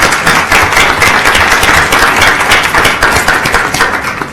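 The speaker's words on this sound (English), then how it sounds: "Could we all give Mrs. Bird a round of applause for her service?" Audience at a school board meeting breaking into steady, loud applause, dense overlapping claps sustained throughout and tapering slightly at the end.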